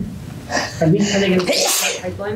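A single loud, sharp sneeze bursts out at a chamber of commerce luncheon, with people talking just before and after it.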